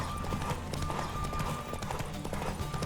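Roach, a horse in The Witcher 3, gallops at speed with rapid, rhythmic hoofbeats thudding close by, steady and loud over a busy game background.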